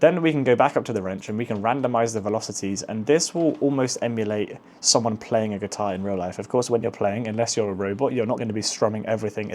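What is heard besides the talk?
No everyday noise stands out behind the speech.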